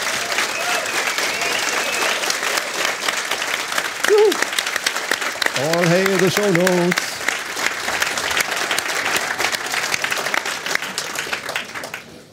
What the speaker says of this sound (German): mit einem wahnsinnigen Applaus